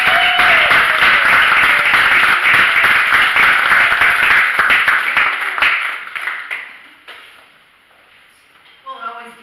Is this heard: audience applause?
yes